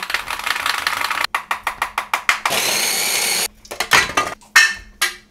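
A blender pureeing leeks, carrots, garlic and celery runs in short loud pulsing bursts, then a longer steady whir, then more choppy pulses, each burst stopping abruptly.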